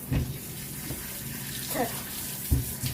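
Water splashes and sloshes in short bursts as a dog is bathed, with drips and pouring onto the floor over a steady running-water background.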